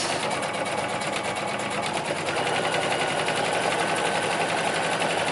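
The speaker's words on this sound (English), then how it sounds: "So now I'm going to stitch down the front," A sewing machine runs continuously, stitching down the center seam of a fabric face mask with a steady, fast mechanical whir and rattle at moderate volume, with no speech.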